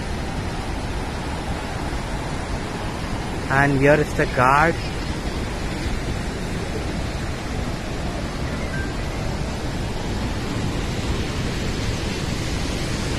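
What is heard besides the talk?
Athirappilly Falls waterfall in Kerala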